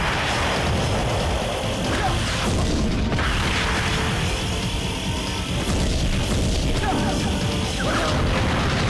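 Loud, continuous barrage of missile explosions and crashing booms in Viewtiful Joe, dense and chaotic throughout, with no clear pauses between blasts.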